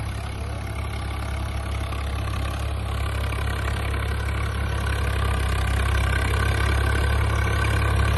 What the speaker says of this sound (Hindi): शानदार रोटावेटर चल रहा है इस पे।